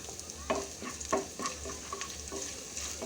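Garlic and ginger frying in coconut oil give off a soft, even sizzle, while a utensil stirring the pan adds clustered taps and scrapes near the start and quieter ones later; no speech.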